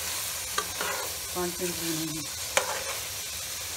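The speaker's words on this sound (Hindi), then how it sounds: "भून रहे हैं" Aloo keema mutter curry sizzles in a pan while being stirred, with scraping strokes and soft clinks over a steady fry; a voice speaks briefly.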